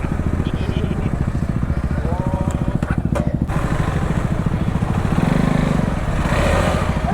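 A motorcycle on a group bike ride rumbles with a steady, loud pulsing engine throb up close, swelling briefly near the end, while people talk over it.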